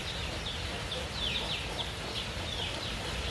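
Chickens cluck in short, repeated calls over a constant noisy background, moderately near and not very loud, with no talking.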